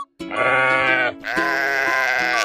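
Two loud, close sheep bleats in quick succession, the second longer and wavering, with no talk over them.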